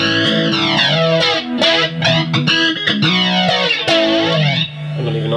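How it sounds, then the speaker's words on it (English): A loud, fuzzy electric guitar plays sustained, buzzing chords and bending notes, thick with distortion, with no voices. "Gonna need a little bit of distortion for that as well,"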